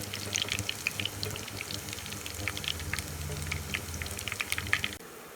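Dried red chillies and shallots fry in hot oil for a kolinchi pickle, giving a steady close crackle and sizzle with bright popping bursts over a low hum. It cuts off abruptly near the end.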